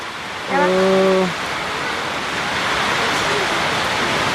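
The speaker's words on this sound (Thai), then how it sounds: "พอดีฝนตกบาดนี่" Rain falls steadily in a Thai village setting, a continuous broadband hiss lasting throughout, with a brief tonal hum near the start sitting over it.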